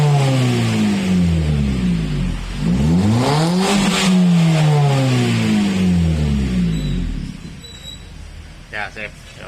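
Toyota Calya with a manual gearbox and a racing exhaust revving hard several times up close, the engine note sweeping up and down loudly before dropping away.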